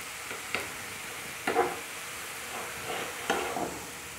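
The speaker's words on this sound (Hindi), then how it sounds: "ये चुकंदर फ्राई हो रही है" Beetroot frying in a pan for halwa, a low, steady sizzle broken by a few brief scraping stirs, fairly quiet and close with no talking.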